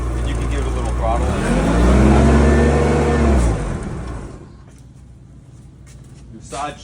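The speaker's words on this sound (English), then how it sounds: "And you can give it a little throttle" A forklift engine is given throttle during an inspection, revving up into a loud, rising then falling mid-pitched roar before settling back toward idle, with a voice heard over it.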